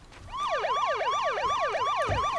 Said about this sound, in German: Sirene an.